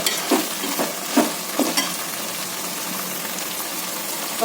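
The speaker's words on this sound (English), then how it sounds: "Continuously I'm frying all these ingredients" Potato, peas and mixed vegetables frying in a pan for veg biryani, a steady close sizzle with a few scraping stirs early on.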